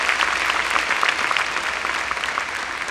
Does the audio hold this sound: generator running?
no